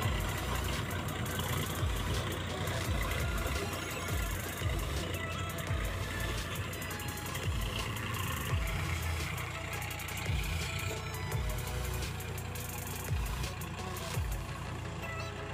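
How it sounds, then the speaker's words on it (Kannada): A tractor engine runs steadily while ploughing a waterlogged paddy field, a continuous low, rumbling drone with a slight rhythmic throb, near and unaccompanied by talk. "ನೋಡ್ತಾ ಇರ್ಬೋದು ಎಷ್ಟು ಈಸಿಯಾಗಿ ಈ ಟ್ರ್ಯಾಕ್ಟರ್ ಒಂದು ಗದ್ದೆನ ಉಳ್ತಾ ಇದೆ"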